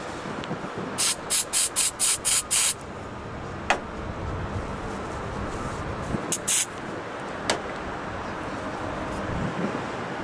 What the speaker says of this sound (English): Put your electrical contact cleaner or electrical cleaning solvent.